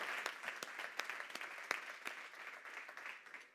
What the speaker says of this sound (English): Once more, ladies and gentlemen, a big round of applause for Maria from Takuvi.